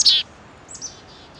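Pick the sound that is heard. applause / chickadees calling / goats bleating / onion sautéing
chickadees calling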